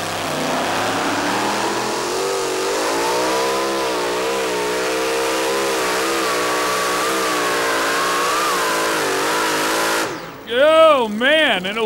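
A modified 2WD pulling truck engine roars at high revs during a pull at Fairfield, Illinois, a loud sustained drone with wavering pitch that cuts off sharply near the end before surging in a few wild revving bursts.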